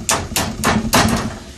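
Four sharp, loud hammer blows land at a steady, even pace on metal rose petals held against a vise, each strike ringing briefly before the next.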